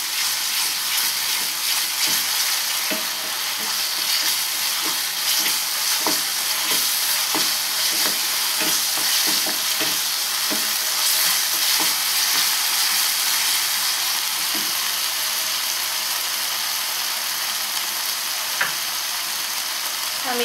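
Masala with a little fresh paneer paste fries steadily in a pan for Bengali palak paneer kofta, a continuous close sizzle broken by repeated spoon scrapes and stirring clicks, no voices.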